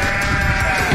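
Sheep in a deer simulator video game bleat loudly and continuously, a dense overlapping chorus of several animals filling the whole moment with no talk.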